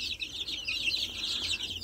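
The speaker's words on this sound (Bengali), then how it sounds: "এই যে আমার দেশি মুরগিগুলোর বাচ্চাগুলো, আজকে এদের 21 দিন হলো।" Native desi chicken chicks, 21 days old, kept in a rearing shed, fill the air with a dense, continuous high-pitched peeping and chirping, steady and fairly close, with no one talking.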